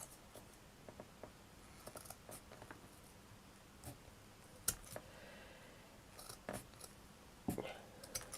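Small scissors snip and trim little bits of material for a miniature crooked house, giving faint, sharp clicks scattered irregularly over a quiet room background.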